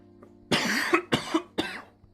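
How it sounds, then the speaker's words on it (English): Three dry coughs in quick succession, close up, the first longest and the others shorter, over a faint low hum. "I have a dry cough."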